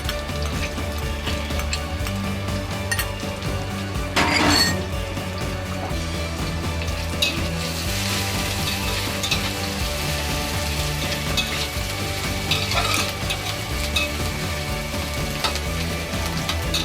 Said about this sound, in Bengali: মশলাগুলো ভালোভাবে আমি একটু কষে নেব